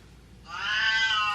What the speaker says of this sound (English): Sorry that the cat is crying.